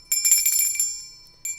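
Bright bell ringing as a notification sound effect: a quick run of metallic rings like a bicycle bell, loud and close, a short pause, then another ring starting, with no talk.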